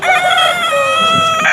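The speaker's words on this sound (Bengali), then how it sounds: "এটা মোরগ, এটা বড়টা মোরগ, এটা মুরগি।" A rooster crows loudly and close at a busy chicken market, one long drawn-out call ringing among hens with faint background bustle.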